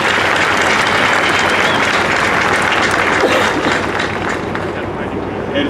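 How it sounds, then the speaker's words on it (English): A large outdoor crowd applauds at the commissioning ceremony of the Navy ship USS John P. Murtha (LPD 26) in Philadelphia, a loud, dense, unbroken wash of clapping with some wind buffeting the microphone. "Give yourselves a round of applause."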